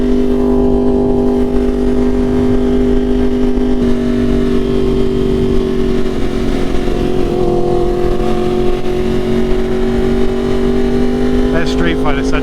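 A tuned Yamaha R1 Limited Edition motorcycle ridden fast, its loud, steady engine drone heard up close throughout, pitch easing slightly and then climbing again, with constant wind rush.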